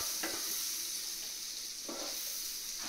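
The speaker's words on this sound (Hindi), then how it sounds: "इसमें डालेंगे प्याज बिल्कुल स्लाइस किए हुए" Sliced onions sizzling in a pan with melted butter for a cheesy mushroom omelette, stirred a couple of times; a constant close frying hiss with brief scraping stirs, and no talking.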